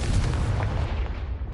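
A fiery Confringo spell blast in Hogwarts Legacy, a loud, booming burst with deep rumble that fades over a second or so.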